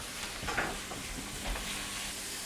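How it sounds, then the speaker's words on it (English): Carrots sizzling in a hot pan while being stir-fried for pad thai, a faint steady frying hiss with a few soft stirring scrapes, quiet and without speech. "So now we're gonna put in all of the carrots."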